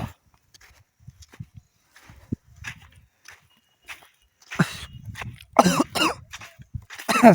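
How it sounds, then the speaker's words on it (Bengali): A person coughs several times outdoors in a village field where cattle and a tractor are working the land; a few quiet shuffles and footsteps come first, then a loud burst of rough coughs near the end. "আমার কাশি পাই যাচ্ছে"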